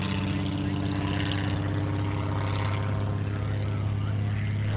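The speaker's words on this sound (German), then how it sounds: "Und das ist natürlich Boeing Stearman." A Boeing Stearman propeller biplane drones steadily overhead at a fly-in, a continuous loud engine and propeller hum with no breaks.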